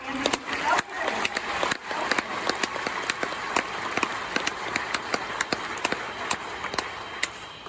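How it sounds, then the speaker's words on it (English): A concert audience applauds the student assistants at a summer band camp's final concert, a sustained patter of many hands with sharper individual claps standing out, moderately loud and continuous. "can we just give a huge applause?"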